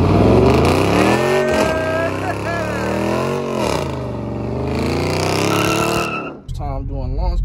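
A Dodge Charger Scat Pack holds on launch control, its engine revving in a steady high drone that climbs and dips repeatedly before cutting off abruptly, with an exclamation and voices close by.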